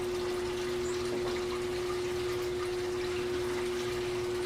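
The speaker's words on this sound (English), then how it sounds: "Little fountain that the birds like to sit in, use the water, take a bath" Water trickles steadily in a small garden bird fountain on a desert back patio, a soft continuous running-water sound with a constant pump hum beneath, heard alone without voices.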